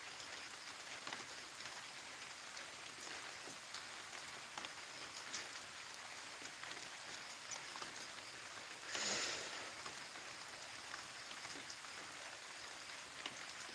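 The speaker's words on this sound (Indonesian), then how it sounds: "Kita berteduh ini karena hujan" Steady rain falling in a dark outdoor spot, a continuous even hiss of drops with a brief louder splash or gust midway, no voices.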